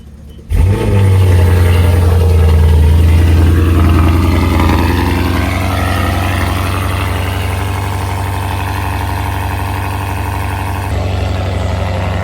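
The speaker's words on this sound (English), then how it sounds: "let's hear this loud V8 roar real quick" A BMW M550i V8 starts with a sharp burst, then holds a loud, deep rumbling idle up close with a strong low-pitched drone that barely changes, steady and uninterrupted until the end.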